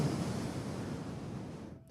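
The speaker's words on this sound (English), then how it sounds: "This is my Ujjayi breath." Ujjayi breath, yogic breathing with the throat muscles constricted, giving a close, ocean-like rushing hiss that holds steady for about two seconds and then cuts off, with no talking.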